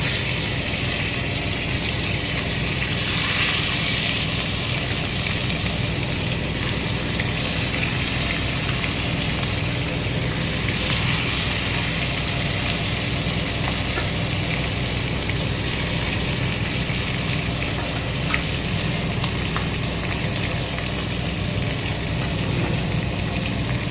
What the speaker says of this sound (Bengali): এখন চিকেনগুলোকে ফ্রাই করতে হবে।